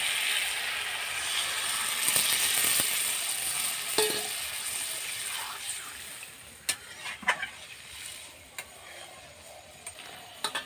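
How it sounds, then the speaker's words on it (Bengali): Spiced water goes into a pan of frying rui fish and cauliflower, a broad hiss and sizzle that swells and then settles into sputtering crackles and a few sharp pops near the end. "এবারে দিয়ে দেব জল, মশলার জল।"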